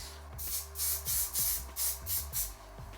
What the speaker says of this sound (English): now I'm going to freeze spray these edges with the Got2b Glue